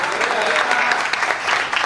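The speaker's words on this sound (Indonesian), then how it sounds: "Berikan tepuk tangan panjang bagi Tuhan," A church congregation claps during a sermon, a brief burst of loud, sustained applause from many people with a few voices mixed in.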